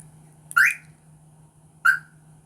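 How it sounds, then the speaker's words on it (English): Two short electronic chirps from a car alarm locking via a signal sent from a Flipper Zero, spaced about a second apart, clear against a quiet background hum. "you'll hear the little beep for my alarm"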